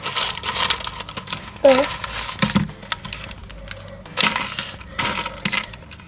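Plastic Lego pieces from a Marvel Thanos mech set tipped out of a bag, clattering in several loud rattling bursts with quieter gaps between, and a person briefly speaking.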